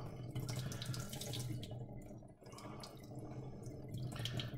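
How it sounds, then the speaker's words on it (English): Steady rush of running water splashing into a sink, continuous and close, with a slight dip midway before the flow picks back up. "Just get rid of all that water, all that stuff on the top. Just pour it."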